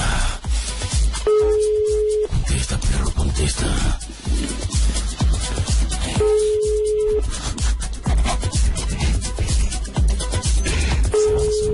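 Telephone busy signal from an unanswered call, repeating as steady beeping tones in about one-second bursts three times, with people talking over and between the tones.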